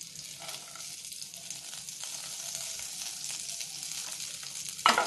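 Dried chilies, curry leaves, cashews, garlic and roasted gram fry together in hot oil with a continuous crackling sizzle, growing slightly busier and ending in a sharper burst of spattering.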